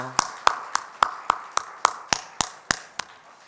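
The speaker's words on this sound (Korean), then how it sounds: "우리 찬양과 영광 받으신 하나님께 영광의 박수 올려드릴까요?" A church congregation at a Friday evening worship service claps in unison, sharp even beats at about three to four per second that ring out clearly and fade slightly toward the end.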